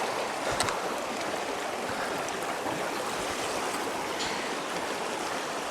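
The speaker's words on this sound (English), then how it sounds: "The water's moving pretty good here" A fast-moving stream in the Canadian wilderness rushes past steadily, a broad close wash of flowing water with no talk over it.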